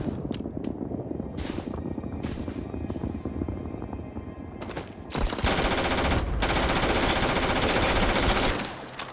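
Gunfire in the Starfield video game: sharp separate shots early on, then a sustained, loud burst of rapid automatic fire in the second half before it cuts off.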